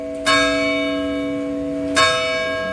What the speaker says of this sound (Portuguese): Olha o sino,